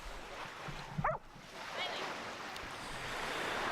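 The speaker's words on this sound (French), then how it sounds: "une chance qu'on est à la plage des chiens" Surf washes steadily onto a dog beach, a continuous roar with some wind on the microphone and a short bark near the middle, with people talking.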